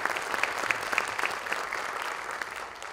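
An audience at a university speech gives a round of applause for a research institute: many hands clapping at a brisk, steady rhythm, fairly close, fading slightly toward the end.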